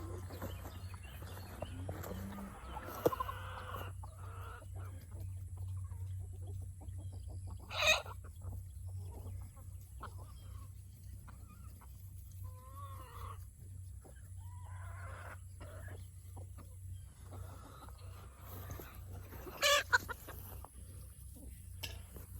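Barred Rock hens clucking around a raised bed garden where one pecks at a watermelon, soft scattered calls over a steady low background hum, with a couple of louder squawks standing out.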